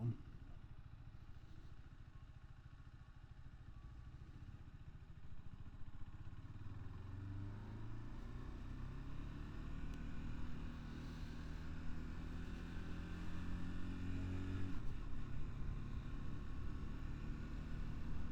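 A KTM RC390 single-cylinder sport motorcycle ridden on the road, steady low engine drone with slight rises in pitch as it accelerates, wind noise over it, no talk.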